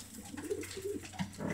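Racing pigeons coo softly in their nest boxes, a few low burbling calls close to the microphone over a quiet loft background.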